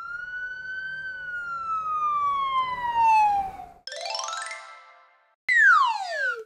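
A police car siren wails in long descending sweeps, then switches to rapid rising and falling yelps, loud and clear with no voices.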